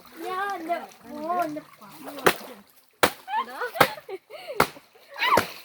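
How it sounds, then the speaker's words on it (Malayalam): Wet cloth is slapped hard against a surface while washing clothes by hand in a river, five sharp smacks spaced apart, with a person talking in between and water splashing. "അപ്പൊ ഞാൻ വേഗം അലക്കി എടുക്കട്ടെ"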